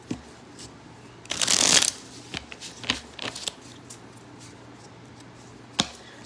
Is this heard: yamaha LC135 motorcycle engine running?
no